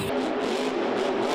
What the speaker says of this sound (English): listen to the throttle rhythm here of Dennis Anderson and Gravedigger